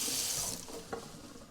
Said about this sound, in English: And then to keep this from drying out, just a little bit of water right there.